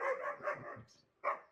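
A puppy barks in a few quick, close yips with a short pause before a final bark, heard alone without talk.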